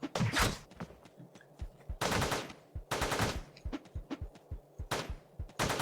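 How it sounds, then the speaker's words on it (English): Machine-gun fire in the video game Teleglitch rattles out in several loud, close bursts with short gaps, interspersed with sharp single shots and thumps. "Might as well use the machine gun, I guess."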